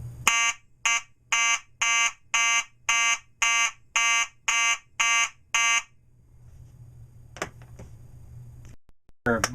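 A Simplex fire alarm sounds in march-time pattern, eleven loud, evenly spaced electronic horn blasts at close range, followed by quieter handling noise and a brief voice.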